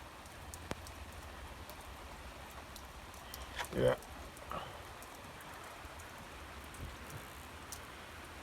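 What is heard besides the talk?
slow steady rain falling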